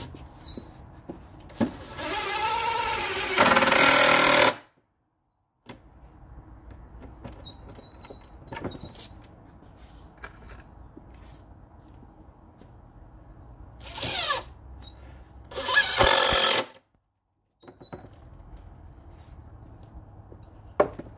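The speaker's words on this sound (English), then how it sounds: "I'm just going to finish off by putting screws in all the other holes" A power drill drives screws into wooden cornhole boards in two loud, sustained bursts of whirring, separated by a long stretch of quieter handling noise and a brief silence.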